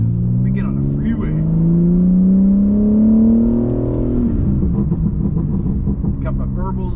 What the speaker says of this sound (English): Got my burbles on.